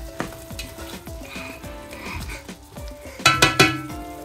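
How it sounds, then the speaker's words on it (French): Lardons (bacon bits) frying in a pan: a loud, close, steady sizzle, then a burst of stirring clatter and scraping against the pan near the end. "D'abord il faut faire cuire un peu les lardons."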